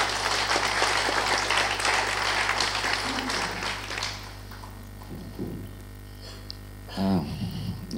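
Audience at a Ukrainian-Polish business forum applauding: dense, steady clapping from a crowd for about four seconds, then fading into a quiet room with a few scattered sounds and a voice.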